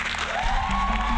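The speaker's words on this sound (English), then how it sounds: "the frequent use of a soundboard that's mainly used for this applause sound" Short burst of canned applause from a soundboard, a dense, steady patter of clapping with a faint tonal layer underneath, lasting only about a second.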